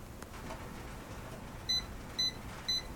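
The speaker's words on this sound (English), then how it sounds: "we're going to wait for the 4 beeps to come" Three short, high electronic beeps from an appliance used for making grape jelly sound at an even pace over a quiet background hum.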